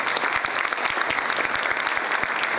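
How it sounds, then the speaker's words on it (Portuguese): Conference audience applause fills the hall at a workshop event, a dense, even clatter of many hands clapping close and steady throughout, with no voices over it. "Aplaudam, por favor."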